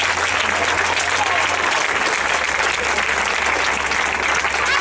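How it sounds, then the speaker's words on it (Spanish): An audience at a youth wind band concert applauding a young horn player named Lucía, dense continuous clapping close and loud throughout with a faint crowd murmur underneath. "Un aplauso para Lucía."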